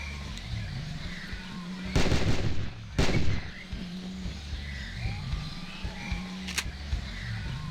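Two loud gunshot bursts ring out in the video game Carnivores while a dinosaur is being shot, the first near the two-second mark and the second about a second later, over a low game ambience. One faint later crack follows.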